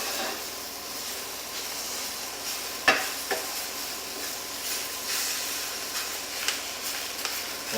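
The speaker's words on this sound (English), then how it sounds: "keep stirring" Chicken frying in a pan while being stirred: a moderate steady sizzle and hiss, close by, with one sharp scrape or clack of the utensil and a few lighter stirring knocks, no talk.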